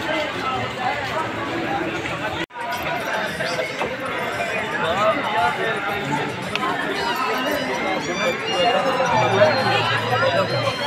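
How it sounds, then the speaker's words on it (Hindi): A large crowd of Hindu pilgrims gathers at Chitrakoot after ritual bathing, with dense, steady chatter and babble all around, footsteps and movement, and a brief sharp cut near the start. "ये देखिए कितनी भयंकर भीड़"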